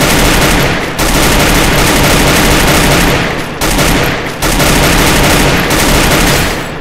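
Gunfight in Garena Free Fire, a factory-roof fist-fight mode: dense, very loud continuous automatic fire that fills the whole clip, broken by a few brief pauses.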